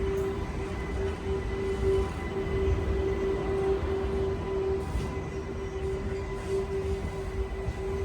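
A MEMU passenger train on the Kacheguda to Raichur route gives a steady, loud rolling rumble with a constant droning tone, heard from on board with no talk.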